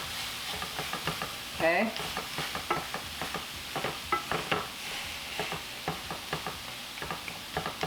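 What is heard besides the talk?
food cooking in a pan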